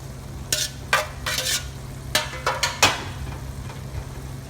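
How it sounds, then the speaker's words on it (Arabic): Eggplant sautés in a pot for maabouj, with about half a dozen loud scraping stirs of a spoon against the metal over a soft, continuous frying sizzle, close and without talk. "ونحمس البيديان معاه"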